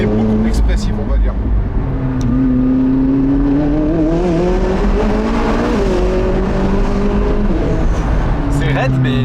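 A McLaren 675 LT Spider's 3.8-litre turbocharged engine pulls hard and revs up, its drone rising and falling steadily throughout, with people talking in the cabin over the engine.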